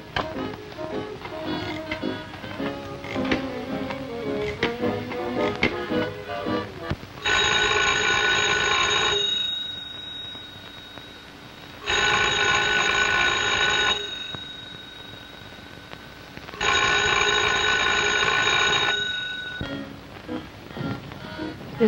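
A telephone rings unanswered in a 1935 mystery film office scene, three long bursts of bright bell ringing separated by pauses, preceded by background music.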